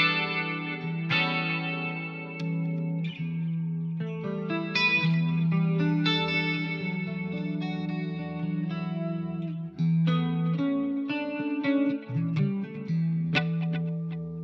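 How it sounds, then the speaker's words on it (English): Electric guitar notes ringing out with a clean, long delay, repeats trailing behind each phrase in a steady, continuous wash, no voices. "so I've got this clean long delay"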